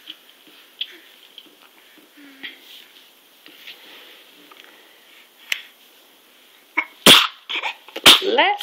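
A child's two sharp sneezes burst out close and loud near the end, after a stretch of quiet with faint small sounds.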